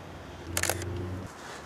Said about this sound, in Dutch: De eerste foto maak ik op diafragma 22.